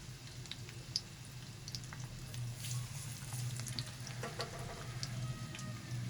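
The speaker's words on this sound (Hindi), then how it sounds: "इसको अब हम फ्राई करने के लिए डाल देंगे" Chicken wings fry in hot oil in a home kitchen, a low steady sizzle with scattered crackles and pops at close range, and no talking.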